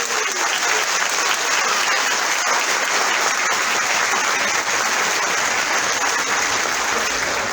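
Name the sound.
audience applause at a spiritist event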